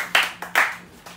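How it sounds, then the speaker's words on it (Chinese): A small audience gives a few scattered claps before a piano performance of Liszt's Hungarian Rhapsody, three or four short, fairly close bursts of hand clapping rather than full applause. "掌声鼓励"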